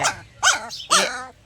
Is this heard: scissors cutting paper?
no